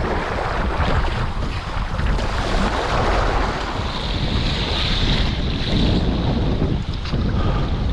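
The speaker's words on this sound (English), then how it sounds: "Got some nice rollers coming in." Rolling waves and steady wind buffet a small sailboat crossing Leon Bay in the Everglades, a loud, continuous rush of water and microphone wind noise with no talk.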